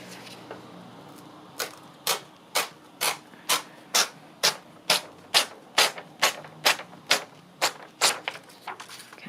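Paper torn off an envelope stack in a rapid rhythmic series of crisp rips, about fifteen evenly spaced bursts, close and clear with no talk.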